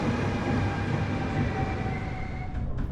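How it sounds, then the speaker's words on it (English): A passenger train rolls south through the Netherlands, its steady rumble of wheels on track and a droning carriage hum filling the cabin, close and continuous, with a brief rattle near the end. "This train is heading south again."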